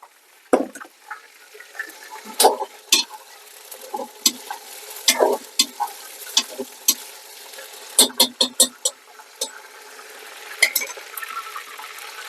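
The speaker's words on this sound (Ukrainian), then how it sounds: "І перемішуємо" Meat for plov being stirred in a hot cauldron outdoors, a utensil scraping and knocking against the metal in irregular clacks over a soft sizzle, with no talk.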